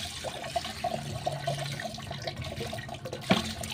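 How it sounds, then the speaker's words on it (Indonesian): Running water rinses kernels of candlenut corn to clean them, a steady splashing and trickling wash close by with a brief sharper splash near the end. "Setelah kita lakukan penyiraman atau pembersihan, atau kita siram dengan air"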